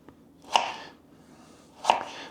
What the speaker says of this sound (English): We need to cut the onion up because we're going to cook the onion in with the meat